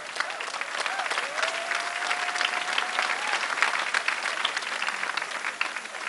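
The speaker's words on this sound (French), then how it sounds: "On l'encourage avec les applaudissements." A crowd at the 2015 Concours général prize ceremony in Dakar, Senegal, applauds a laureate with sustained, lively clapping, a faint tone briefly rising through the middle of the steady applause.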